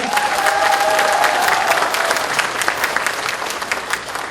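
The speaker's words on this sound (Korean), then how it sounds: "큰 박수 한번 보내주십시오." Audience applause fills a party convention hall in Sejong and North Chungcheong, sustained dense clapping from a large crowd that holds steady for several seconds and eases slightly toward the end, with no voices over it.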